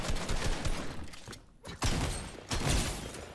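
Fortnite gunfire rattles in quick repeated bursts of sharp shots at moderate volume, broken by a brief gap before the firing resumes.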